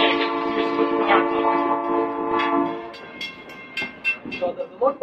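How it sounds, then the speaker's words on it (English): A 1950s former U.S. Army locomotive at the Mid-Continental Railway in North Freedom, Wisconsin sounds a loud sustained horn, then fades into short bursts of clanking and mechanical knocks. "So the locomotive was built in 1953 or 54 and used by the U.S. Army"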